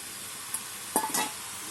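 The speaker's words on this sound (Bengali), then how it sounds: "ভেজে রাখা চিংড়ি মাছটা দিয়ে দিলাম।" Fried prawns drop into a pan of jackfruit and potato, giving a soft hiss with a couple of quick clinks and scraping stir sounds in the middle of the short burst.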